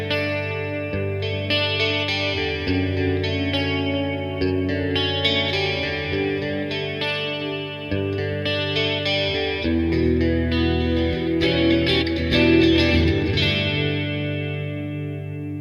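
Guitar played through a beginner amp with reverb and delay, chords and single notes ringing out with echoing repeats and a lingering wash, loud and alone with no talking.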